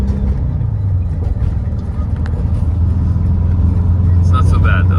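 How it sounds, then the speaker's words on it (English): A van rolls across a bridge in light traffic. Its low road rumble and engine drone hold steady from inside the cabin, and a few faint higher tones come up toward the end. "Driving across the bridge. There's a little bit of traffic too."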